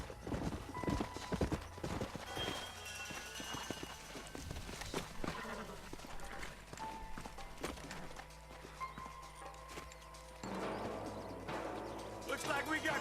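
Horse hooves clip-clop in Red Dead Redemption, quiet uneven hoofbeats and footfalls mixed with game ambience and occasional voices.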